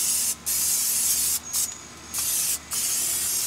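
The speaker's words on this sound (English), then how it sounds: "To spray a little Pam." Pam cooking spray misted onto a Masterbuilt 1050 grill's Rib-O-Lator setup in three short hissing bursts, close and clear, separated by brief pauses over a low steady background hum.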